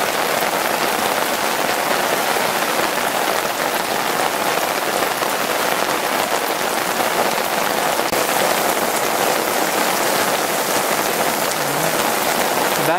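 Rain falls steadily at a fishing spot, a dense, even hiss of drops hitting the surfaces nearby. It stays unbroken and constant throughout, with no voices.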